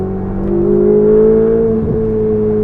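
Ferrari 488 GTB driving, a loud close engine droning at a fairly even pitch that rises slightly, then dips briefly near the end, with no talking.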